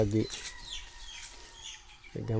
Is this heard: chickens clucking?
yes